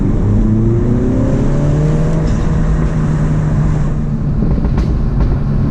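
A modified manual Mini Cooper S drones loudly and steadily through an open car window, its exhaust note rising in pitch as the engine revs between shifts.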